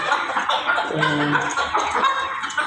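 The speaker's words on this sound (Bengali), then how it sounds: "আর বড় মোরগ তো অনেক চিল্লাচিল্লি করে" Roosters and chickens at a poultry shop cluck and squawk continuously, several birds close by with a brief crow-like call in the middle, loud and busy, with no talk over it.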